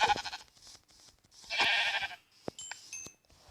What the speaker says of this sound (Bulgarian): Там има една овца.